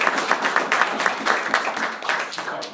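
A small group at an insurance training session gives a short round of applause, fairly faint, with dense overlapping claps lasting under three seconds.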